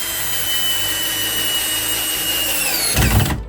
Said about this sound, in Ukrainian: І давайте подивимося, як працює шуруповерт.